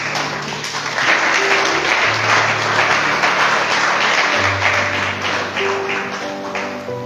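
A church congregation applauding, with a dense, sustained wash of many hands clapping at once, loud and close, blended with scattered voices and a low hum.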